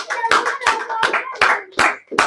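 A church congregation claps in bursts, about six loud, uneven rounds of hand claps in quick succession with a faint voice mixed in.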